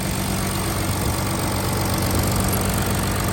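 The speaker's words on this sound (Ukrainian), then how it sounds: "3 літри дизельний двигун в ауді, блін, звук шикарний" A 3-litre diesel engine in a 2019 Audi A6 Allroad idling steadily, a low rumbling knock with constant vibration, close and fairly loud, no voices.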